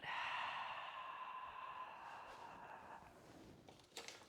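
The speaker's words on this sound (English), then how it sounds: "and breathing out." A person breathes out slowly and audibly during a standing yoga pose, one long soft exhale that trails off into faint room noise.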